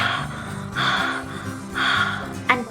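A storyteller's voice imitates huffing and puffing, giving three long, loud, breathy exhales at an even rhythm, close to the microphone, ending with a short sharp puff.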